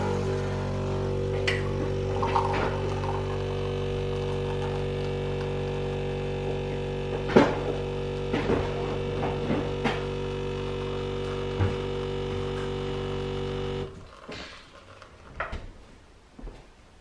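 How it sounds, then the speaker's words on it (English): A Nespresso coffee machine dispenses espresso into milk with a steady, loud pump hum and a few clicks, running alone for about fourteen seconds before cutting off into quieter handling noises. "we're just literally putting the coffee in and dispensing it right into the milk"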